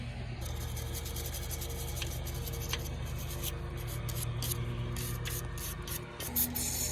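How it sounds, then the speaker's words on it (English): A wire brush scrubs the rusty bolt threads of the leaf springs on a 1989 Ford F250. A steady, close, scratchy rasp runs throughout, with a few sharper strokes near the end. "I'm gonna clean the threads with my wire brushes"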